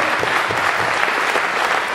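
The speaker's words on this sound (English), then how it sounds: "round of applause for those people who step up, take a risk, way to go" An audience at a Massachusetts candidate school opening breaks into steady applause, a close, dense patter of many hands clapping throughout without pause.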